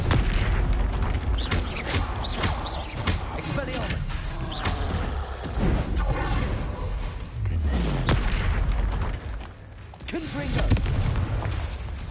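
The Confringo blasting spell is cast in the game Hogwarts Legacy, with loud, repeated explosive booms and bursts over a heavy rumbling game soundscape, and a voice is heard amid the blasts.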